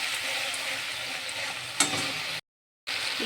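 Poppy seed paste and green chilli paste fry in a pan for rui fish curry, giving a steady close sizzle with one brief scrape, then a short cut to silence before the sizzle resumes.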